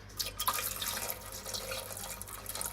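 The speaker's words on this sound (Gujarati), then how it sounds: "અડધો ગ્લાસ જેટલું મેં પાણી નાખી દીધું પાછું." Water for boiling chickpeas splashes and trickles steadily into a container close by, a continuous liquid pouring sound with a low hum underneath.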